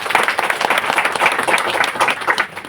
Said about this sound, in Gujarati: એકવાર એના માટે જોરદાર તાળી.